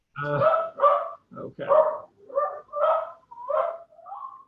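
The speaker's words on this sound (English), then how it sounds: "I apologize for the crazy dog." A dog barks repeatedly inside an open-plan house, about seven loud, close barks in an uneven rhythm, with a brief spoken word from a person among them.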